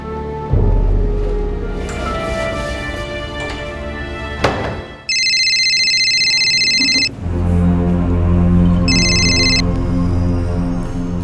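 A telephone rings in two bursts of electronic tones over loud, busy background noise after a road accident, as bystanders rush to call an ambulance.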